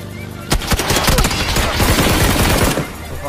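Rapid automatic gunfire in a shooter video game, a dense loud burst of overlapping shots lasting a couple of seconds before cutting off.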